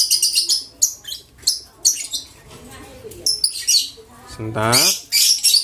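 Adult lovebirds chirp in sharp, high, rapid bursts close by, with a brief spoken word from a person mixed in among the calls.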